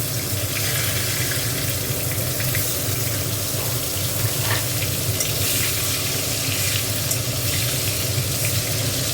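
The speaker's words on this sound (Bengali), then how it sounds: "বেগুনগুলো একটু ভেজে নেবো।" Eggplant slices fry in a pan of hot oil for a Bengali fish-and-vegetable dish, giving a steady, dense sizzle that runs throughout at an even level, with no one speaking.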